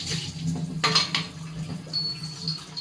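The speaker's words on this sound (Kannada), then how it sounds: "ವಿಮ್ ಲಿಕ್ವಿಡ್ ಡಿಟರ್ಜೆಂಟಿಂದ ವಾಶ್ ಮಾಡ್ತಾ ಇದ್ದೀನಿ" Silver, copper and brass vessels being washed with Vim liquid detergent, giving close metallic clinks and scraping clatter of pots and utensils over light water sounds, with one sharper cluster of knocks in the middle.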